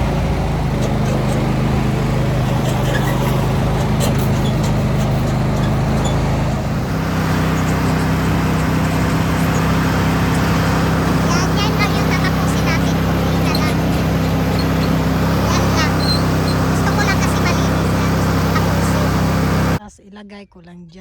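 A small vehicle's engine starts and runs steadily, a loud continuous drone with a shift in tone partway through before cutting off near the end; no talk over it.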